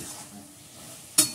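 Vegetable chachchari in a pan with raw mustard oil just added, a soft continuous sizzle ending in one sharp, loud clink of a utensil against the pan.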